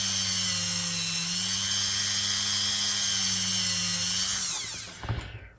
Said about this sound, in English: his Dremel's getting faster and slower. All by itself.